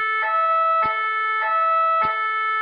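American-style siren fitted to a SAMU emergency ambulance in Limoges, a loud close wailing tone with bright harmonics that rises and falls in a regular cycle about every 0.6 seconds, heard alone.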